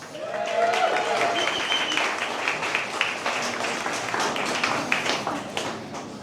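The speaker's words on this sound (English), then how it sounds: "Round of applause to you." A crowd at an official beer launch event applauds, with a steady wash of many hands clapping at moderate loudness, a few sharper claps standing out and faint voices mixed in.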